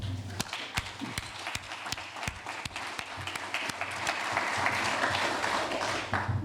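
Audience members applaud a colleague at a university climate-neutrality closing session, starting with a few distinct claps and thickening into fuller, sustained applause that grows louder toward the end.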